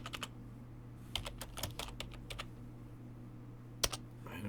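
Keystrokes on a computer keyboard, entered into a point-of-sale database form, come as scattered clicks in short bursts over a steady low hum, close and moderately quiet.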